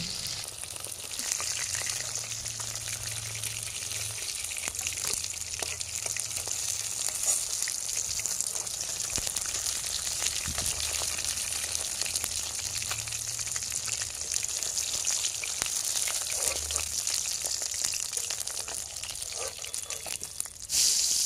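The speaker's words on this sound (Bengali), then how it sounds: "এখন মাছের ঝোল তৈরি করার জন্য আমি যেই আলু আর ফুলকপিগুলো কেটে রেখেছিলাম আমি সেই আলুগুলোকে ভেজে নিচ্ছি" Potatoes fry in hot oil in a pan after rui fish has been fried, a continuous close sizzle with fine crackles and a few faint scrapes, steady throughout with no talking.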